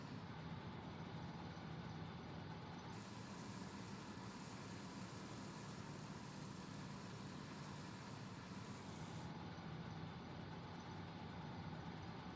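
Tractor in Farming Simulator 19 driving up to a trailer during a potato harvest, a steady loud diesel engine drone with constant rumble throughout and no talk.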